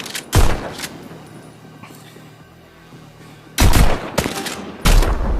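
Gunshots in a VR fitness video game, three loud booming blasts separated by stretches of quieter background rumble, sharp onsets with lingering tails.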